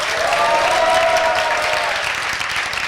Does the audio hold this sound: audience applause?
yes